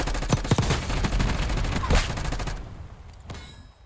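Gunfire in a shooting video game rattles out in rapid bursts of sharp, close shots for about two and a half seconds, then fades to a few sparse distant cracks.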